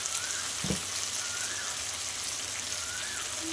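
Spices and turmeric sautéing in a pan for a tangra fish and potato curry, a steady close hissing sizzle with one brief soft knock early on.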